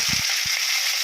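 Mustard seeds and dried chillies fry in sesame oil, giving a short, bright, continuous sizzle heard close by with no voices.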